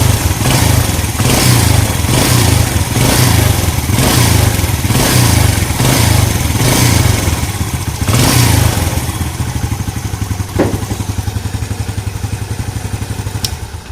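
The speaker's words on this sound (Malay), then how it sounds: "Alhamdulillah dah settle masalah geng. Motor dah hidup." A motorcycle engine, running again after its carburetor took in water, idles loudly and steadily with a pulsing rhythm, close to the listener, then settles slightly quieter, with a brief clunk near the end.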